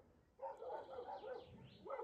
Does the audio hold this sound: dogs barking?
yes